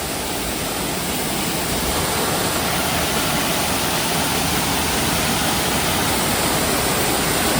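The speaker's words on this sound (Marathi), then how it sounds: "दोन धबधब्यांचा संगम" Two waterfalls meet in an evening nature setting, producing a steady, loud, broadband roar of rushing water that holds constant throughout with no voices.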